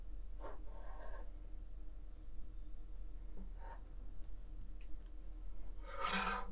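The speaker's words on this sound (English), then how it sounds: "I'm gonna apply that slight pressure and carefully cut up to the top and then across the top as well" Rotary cutter slicing quilting fabric along a Creative Grids square ruler, a few soft short rasping scrapes spaced apart, quiet and close, with no voices.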